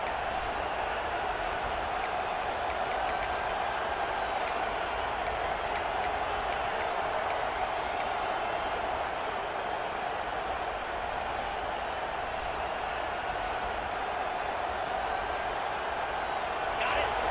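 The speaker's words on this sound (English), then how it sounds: "the crowd really making some noise now, trying to help out this defense to get this stop near the goal line" Stadium crowd at a college football game between Hawaii and Wisconsin roars steadily near the goal line, a dense continuous wash of cheering and shouting with scattered whistles and claps, loud and sustained throughout.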